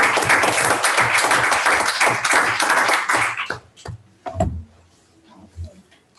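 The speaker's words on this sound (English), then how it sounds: "So let's give her a round of applause." A round of applause at a school board meeting, dense clapping from a group lasting several seconds before fading into scattered claps and room noise.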